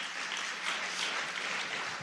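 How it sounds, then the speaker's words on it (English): Audience applause, a dense wash of clapping from a crowd, steady and fairly close for the whole short stretch. "And you're clapping for God right now"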